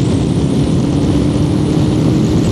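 A Yamaha V-Max 1200cc cruiser motorcycle's engine drones loud and close under steady riding, with continuous roar and wind noise.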